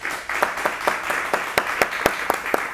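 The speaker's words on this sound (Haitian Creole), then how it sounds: "un gros applaudissement pour nous" Applause rises from the audience of a live talk show, a dense wash of hands with sharper individual claps popping through, steady and fairly close for a few seconds.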